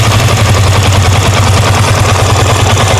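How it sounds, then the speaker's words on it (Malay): A hot motorcycle engine with tappet noise runs steadily and loud throughout, a continuous idling rumble with a fast repetitive mechanical ticking over it, no voices. "Jadi jom kita dengar bunyi motor ni."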